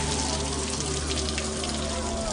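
Water drawn from a well is poured out onto the ground as an offering, a steady close gushing splash that runs unbroken the whole time.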